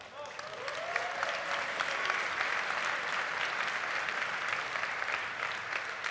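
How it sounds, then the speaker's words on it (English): A crowd applauds steadily, dense clapping that stays strong and even throughout with no talking. "Give me a round of applause."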